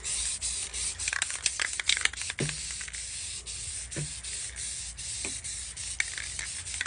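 A spray paint can lays an even coat on a spray paint art piece, giving a broad hiss broken by quick bursts and scraping rubs, close and without talking.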